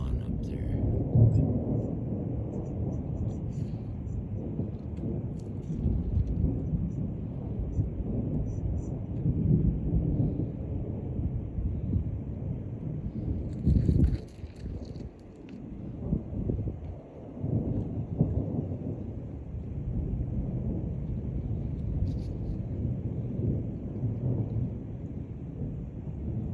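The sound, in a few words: thunder during a lightning storm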